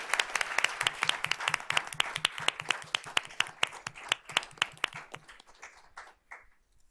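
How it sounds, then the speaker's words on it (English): A round of applause at a school board of trustees meeting honoring two students: many hands clapping steadily and briskly, then thinning out and fading over the last second or two. "Let's give these 2 young ladies a round of applause."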